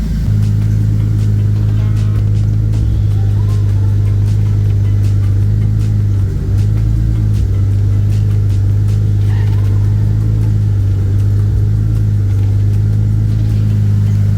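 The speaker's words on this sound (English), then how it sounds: "Check out how easy it is to turn the steering wheel." A Toyota 7MGTE engine idles with a steady, loud, low rumble after a power steering reservoir relocation, while the steering wheel is turned. The engine note holds continuous with slight dips and no talking.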